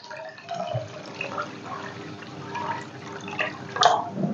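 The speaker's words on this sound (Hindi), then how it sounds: "यहाँ जो है चीनी ऐड करने के बाद 1 केजी जितना पानी चीनी में ऐड कर देंगे।" Water poured from a container onto sugar in a non-stick pan while making suji halwa, a steady liquid trickle and splash with a louder splashing burst near the end.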